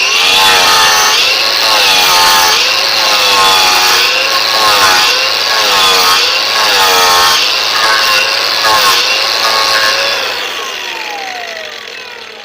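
A battery angle grinder cutting into pine bark for resin tapping runs loud and close, its high whine wavering rhythmically as it bites and eases, then winds down and fades over the final couple of seconds.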